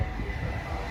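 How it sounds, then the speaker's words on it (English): A freight train hauling green container boxes rumbles past steadily, a continuous broad roar with heavy low-end weight and no pauses, heard near a seaside area in Suma, Kobe. "it's freight train with green boxes"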